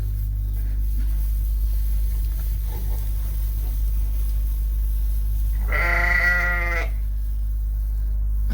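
Pregnant ewes close to lambing bleat once loudly nearby over a constant low rumble, the single drawn-out call rising above an otherwise quiet pen.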